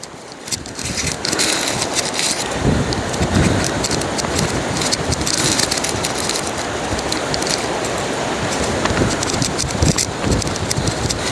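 Strong wind buffets a microphone outdoors along a riverbank lined with willows, a loud, steady roar with rough gusting texture that runs the whole time, with no voices.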